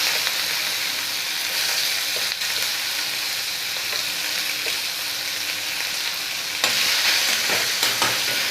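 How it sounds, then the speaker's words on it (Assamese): Steady, loud sizzling of onions frying in a pan, with occasional scraping as they are stirred; no voices. "এতিয়া পিঁয়াজখিনি গোটেইখিনি দি দিছোঁ ইয়াতে"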